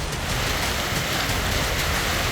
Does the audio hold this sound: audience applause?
no